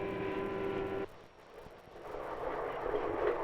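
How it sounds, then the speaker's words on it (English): Passenger train hurrying through farm country in a 1954 film, a steady rushing rumble that carries a brief tonal hum at the start and then settles into broad rolling noise, with no voices. "Now the train's hurrying through farm country."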